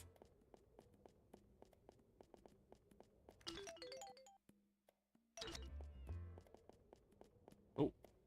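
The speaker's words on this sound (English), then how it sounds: "Oh, I heard a cat meow." A cat meows in the video game Radiata Stories, short meow-like calls rising briefly over game music and footsteps with a tinkling chime, then a single sharp meow near the end.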